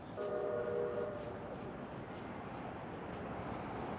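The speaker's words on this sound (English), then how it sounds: "here's one of the Q line trains right now" A Detroit QLine streetcar passes on a street in Midtown, its horn sounding briefly at the start over a steady, fairly loud rumble of wheels and traffic noise.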